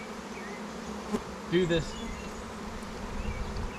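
Honeybees hum steadily around a small nuc hive during a one-month inspection, a close continuous drone with a brief louder buzz of a bee passing near; a voice speaks briefly over it.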